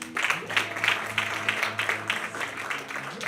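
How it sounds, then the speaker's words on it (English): An audience at a motivational talk claps steadily for several seconds, a dense, fairly close patter of hands with faint low background tones beneath. "Can we clap for that, please?"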